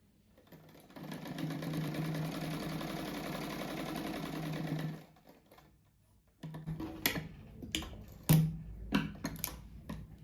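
A sewing machine stitches a cushion in a steady whirring run of about four seconds. After a pause come shorter bursts of stitching mixed with fabric handling and clicks, all close and with no voices.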